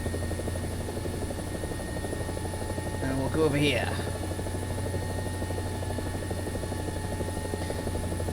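Helicopter rotor and engine drone from War Thunder's simulator mode, steady and continuous throughout, with someone talking briefly over it.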